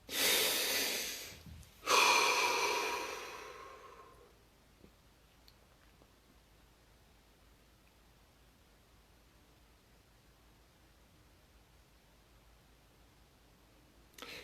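A deep breath during meditation: a long, close inhale, a brief pause, then a slower audible exhale, followed by near silence.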